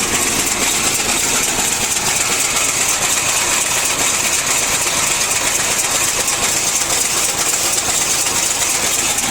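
A PROGRESS-AVTO round baler runs with its hydraulics engaged at maximum speed, giving a steady, loud mechanical drone with a dense rattling whir that holds unchanged throughout, with no voices.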